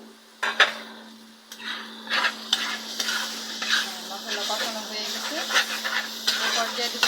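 Tomato masala for Pakistani-style dal cooks in a pan with a steady sizzle, while a spoon stirs and scrapes it again and again, knocking now and then against the metal. The sound is close and fairly loud.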